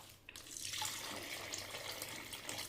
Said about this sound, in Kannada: ಈಗ ನಾವು ಇದಕ್ಕೆ ಇನ್ನೊಂದು ಗ್ಲಾಸಷ್ಟು ನೀರನ್ನ ಆ್ಯಡ್ ಮಾಡ್ಕೊಳ್ಳೋಣ